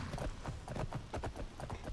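Steady clip-clop of horse hooves in a video game, rhythmic and fairly close, repeating evenly throughout with no talking.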